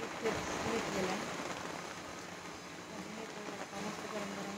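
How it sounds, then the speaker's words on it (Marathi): Heavy rain pours outside a D-Mart store, a dense, steady hiss of water striking surfaces nearby that holds at the same level throughout with no letup. "खूप धो जोरात पाऊस पडतो"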